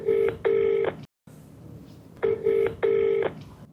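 A telephone line sounds two paired ringback tones, each a steady buzzing burst in quick double pulses, separated by a brief silence and followed by a quiet pause before the next double ring.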